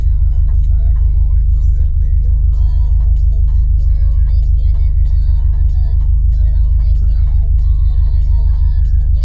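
A 2018 Subaru STI engine drones loud and steady on a virtual dyno pull, a dense low-frequency roar held throughout with faint higher whine above it.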